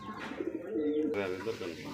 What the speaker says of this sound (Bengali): আরও একজোড়া কিন্তু বোম্বাই কবুতর